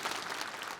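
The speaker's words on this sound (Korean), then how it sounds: "여러분들이 박수 쳐버리네" Church congregation applauding in a sanctuary during a sermon, a short, fairly faint burst of dense clapping with no voices.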